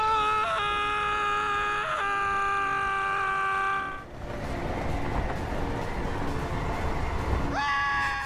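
Shrill, sustained screaming from the Simpsons world of the Lego Dimensions video game, long wailing tones that break off briefly midway and then return amid noisy game sounds.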